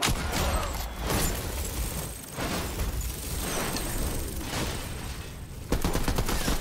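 Rapid, continuous fire from a combat assault rifle in a first-person shooter, with dense overlapping shots sustained for several seconds and a heavier burst near the end, loud and close with no talk.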